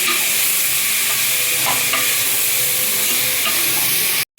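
Onion, tomato, green chilli and mint sauté in a hot pan with a loud, continuous sizzle and crackle that stays close and steady, then cuts off abruptly.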